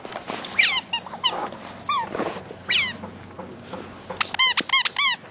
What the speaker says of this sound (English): Where's the little squeaky ball?